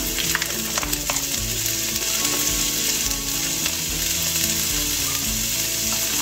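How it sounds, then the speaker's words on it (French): Sausages sizzle and fry in a pan with browned onions, a steady loud crackle with occasional stirring clatter and no voices. "Lorsque nos oignons sont un peu dorés, nous allons ajouter nos saucisses."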